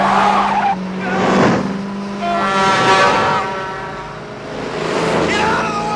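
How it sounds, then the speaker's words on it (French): Cars and trucks rush past in a film car chase on a crowded Los Angeles freeway, with loud engine roars swelling and fading, tires squealing and horns blaring close by. "Vukovich et Chance sont ici littéralement submergés par le flot incessant de voitures et de camions"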